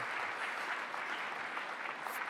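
A gala audience at a toast for a pharmaceutical executive breaks into applause, a steady, faint wash of many hands clapping at a distance, with no distinct voices.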